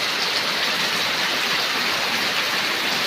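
Heavy rain pours down in a village, a loud, unbroken wash of dense hiss with no pauses and no voices.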